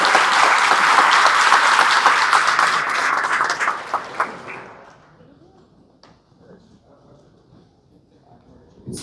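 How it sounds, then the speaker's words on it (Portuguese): A crowd at a company event applauds the brokers, loud dense clapping that thins out after about four seconds into scattered claps and quiet room noise, with a few voices near the end. "uma salva de palmas para cada corretor"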